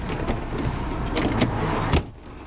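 A cheap Land Rover Defender door with a poorly fitted, loose feel being shut: a steady cabin and road rumble runs until a solid thump, after which the noise drops to a quieter hush.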